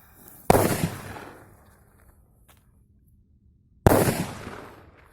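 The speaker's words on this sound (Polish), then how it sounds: "lecimy z piratką od Hesti" Two loud Hestia Piratka firecracker bangs a few seconds apart, each a sharp crack followed by a rumbling echo that fades into quiet.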